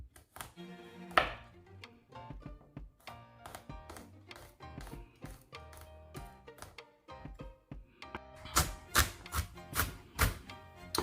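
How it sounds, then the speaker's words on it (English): A knife chops garlic cloves on a board, a string of crisp close taps, irregular at first and then quickening into a steady rapid rhythm toward the end, with no talking. "chop 2 of the cloves, and then I'm gonna crush that other one"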